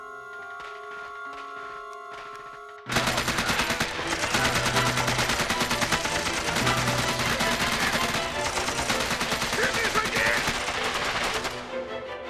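Sustained automatic gunfire breaks out in a shootout scene from a Chinese TV action drama, with dense, loud rapid bursts continuing for about nine seconds after a quieter stretch with music at the start.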